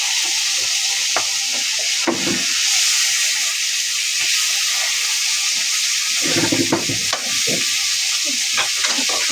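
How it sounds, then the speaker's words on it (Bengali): Onions sizzle and hiss steadily in hot oil left over from frying fish, a loud close frying sound with occasional stirring scrapes and crackles throughout. "এই তেলের ভিতরে পেঁয়াজ দিয়ে দিলাম, আর একটু তেল দিয়ে দিই"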